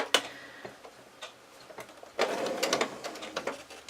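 A sewing machine stitches a quilt block for a cross-block pattern. Soft, quick ticking bursts start and stop, then build into a denser run of stitching. It is fairly quiet and close, with no talk.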